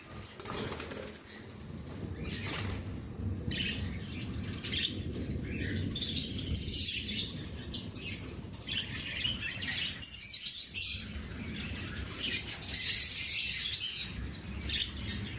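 Budgerigars in a breeding box give rapid chirps and twittering calls, fairly close and continuous, with occasional wing flutters and handling knocks, no talk.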